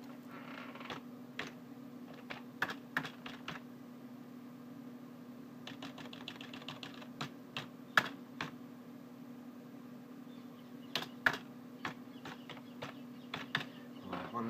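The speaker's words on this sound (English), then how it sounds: "Finger typing isn't working very well today." Light keyboard typing comes in short bursts of taps separated by pauses, over a steady low hum, close and quiet.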